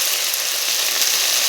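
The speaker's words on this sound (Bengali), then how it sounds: "সুন্দর করে এখন মশলাটা কষিয়ে নেব" Spice paste with salt and turmeric sautéing in a pan, giving a steady, close, loud sizzle that hisses evenly with no pauses and no voices.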